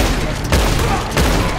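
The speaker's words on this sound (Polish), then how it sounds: "Na co do nas strzela, stary?" Gunfire in the video game Red Dead Redemption 2 comes as two heavy bursts about half a second apart, loud and booming over a dense, noisy game soundscape.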